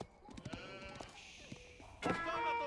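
Several sheep bleat in the Age of Empires IV strategy game, short wavering calls scattered through the clip, with a louder, longer bleat near the end, alongside light game effects.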